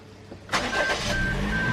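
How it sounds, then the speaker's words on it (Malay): A car engine turns over and catches about halfway through, then runs at a steady idle, close and fairly loud, during work to clear a check engine light. "Jadi saya try start engine dulu lah."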